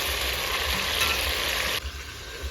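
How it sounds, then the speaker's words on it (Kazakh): Horse meat fries in oil in a kazan for kazan kebab, giving a loud, steady close-up sizzle and crackle that briefly eases toward the end. "Одан кейін қол майымызға етімізді қуырамыз"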